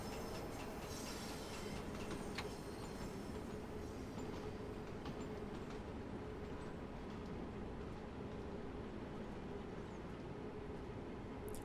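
A London Underground Bakerloo Line train from Train Sim World 2 runs steadily along the track, a faint continuous rumble with light rhythmic clicks and occasional higher squeals, no voices.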